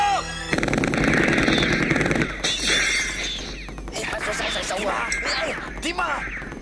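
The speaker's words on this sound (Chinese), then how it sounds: "开枪！" Rapid machine-gun bursts and gunshots ring out in a shootout from the 1994 film God of Gamblers 2, with glass shattering and crashes mixed in, loud and close, while voices shout over the chaos.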